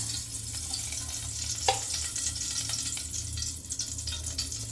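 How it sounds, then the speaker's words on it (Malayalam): Ghee heating in a pan for a semolina porridge, giving a steady, close frying hiss with soft crackle throughout, broken by a brief scrape near the middle. "നമുക്ക് ഇതിലേക്ക് ആവശ്യമായ ഇതിലേക്ക് ആവശ്യമായ നെയ്യ് ഒഴിച്ചു കൊടുക്കാം"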